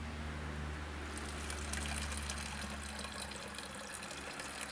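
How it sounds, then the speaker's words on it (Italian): Spring water trickles steadily beside a roadside shrine, a continuous close wash of splashing under a low background hum. "Acqua sorgente, una sorgente praticamente."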